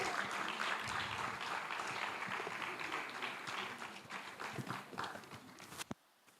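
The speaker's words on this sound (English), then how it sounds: "Please, a round of applause, ladies and gentlemen." Audience applause at a fintech challenge semi-final ceremony, a dense, steady clapping that fills most of the moment before fading out abruptly near the end, with a loud hall ambience.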